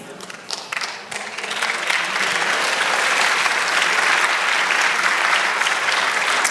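Sustained applause from a church congregation during a sermon, steady and dense throughout, rising slightly after the first second with no speech over it.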